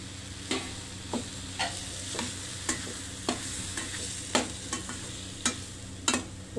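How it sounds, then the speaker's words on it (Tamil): Turmeric, chilli powder, sambar powder and salt are sautéed with vegetables in a pan, a steady low sizzle under regular scraping strokes of a spoon, about one every half second, close and with no talking. "போட்டு நல்லா கலந்து விட்டுக்கோங்க வதக்கி"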